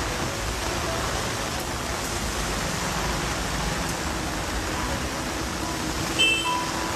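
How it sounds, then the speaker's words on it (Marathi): Dense, steady hiss of heavy rain pouring down, constant and enveloping, with no voices and only a faint tonal blip near the end. "पाऊस आलाय खतरनाक पाऊस"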